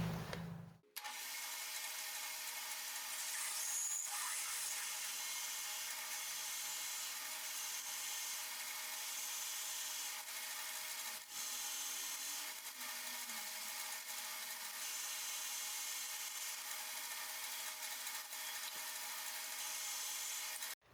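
A 6.5mm drill bit bores a deep hole, giving a steady, continuous whirring grind at low level that holds almost unbroken for about twenty seconds, with a couple of brief dips.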